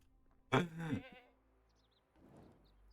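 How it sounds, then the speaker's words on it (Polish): A single sheep bleats up close in a sheepfold, a loud wavering cry, followed by quieter rustling and shuffling afterward. "Tu są baranki."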